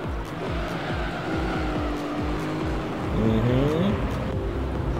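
A race car engine in Gran Turismo 3 is pushed hard, its loud buzzing drone rising and falling in pitch through the gears as the car corners, with tire squeal near the end and no pauses.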